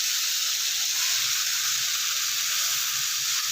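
Okra masala sizzles steadily in a hot pan, a loud, continuous frying hiss with no break.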